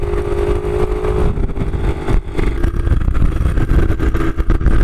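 A Suzuki PV moped engine buzzes steadily and loudly while riding, a rough, high-revving two-stroke drone with wind noise and no talk.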